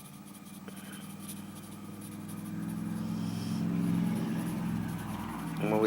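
Pencil shades a cartoon character drawing with soft, continuous scratchy strokes, close and quiet, over a low background rumble and faint talk.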